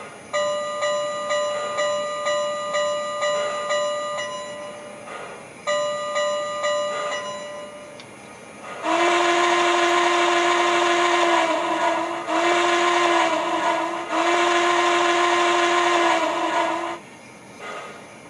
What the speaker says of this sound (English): Here comes the train. 4449's on the point.